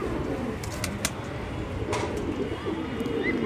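A golden bajri pigeon coos in soft low repeated phrases against steady background noise, with a few sharp ticks and no talking.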